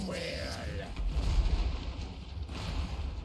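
Deep booming cannon blasts rumble through a Total War: Warhammer 3 battle soundscape, a heavy low roll swelling midway, with a voice talking briefly at the start.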